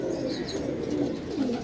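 Pigeons cooing in a low, throaty, rolling murmur that continues steadily throughout, close and fairly loud, with no talking.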